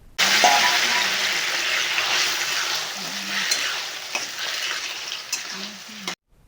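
Boiled okra sizzles loudly and steadily in a hot pan with fennel and bay leaves, while a spoon stirs and scrapes through it in occasional knocks, close up.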